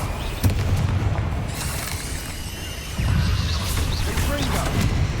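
Confringo fire spell blasts in Hogwarts Legacy: two loud booming impacts with crackling debris, one near the start and one around the middle, under a continuous game soundscape and talk.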